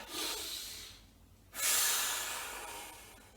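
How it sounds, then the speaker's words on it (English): A long, deep inhale during a group vocal warm-up, a loud airy rush of breath near the microphone that swells after a short pause and slowly tapers off. "and breathing in"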